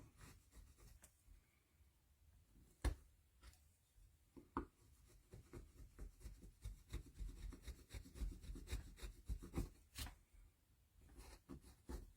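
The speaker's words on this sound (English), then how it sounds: "I often remove the debris sections with the skew chisel" Skew chisel working wood for a relief carving of small folk figures, giving a run of close, dry scraping and rubbing strokes with sharper clicks, steady and near with no talk.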